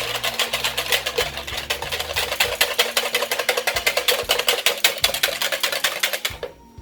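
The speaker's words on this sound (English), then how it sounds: "I'm going to put this milk into it, and I'm going to give it a really good whisk" Milk is whisked hard in a pot for lasagna sauce, giving a rapid, steady rhythmic clatter of the whisk against the pot. It is close and loud and continues for several seconds before stopping abruptly.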